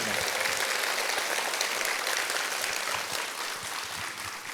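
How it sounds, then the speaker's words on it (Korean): An audience in a lecture hall applauds a professor after an art history talk, with thick, sustained clapping that slowly thins toward the end. "다시 한번 또 귀한 강연을 해주신 우리 양정무 교수께 큰 박수 부탁드리겠습니다"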